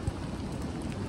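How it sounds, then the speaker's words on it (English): Light rain falls in the mountains of Taroko National Park, Taiwan, a soft, faint, even patter of drops for a brief moment. "it's raining a little bit"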